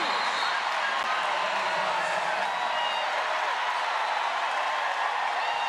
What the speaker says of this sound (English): The crowd erupts here in Moody Center